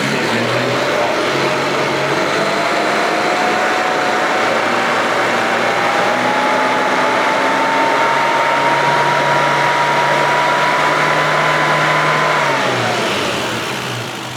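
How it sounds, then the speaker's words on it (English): A classic Mini engine with an AH2 carburettor needle revs steadily up through its range and drops back near the end, a loud, continuous mechanical drone heard alone. "So I'll just go through the rev range"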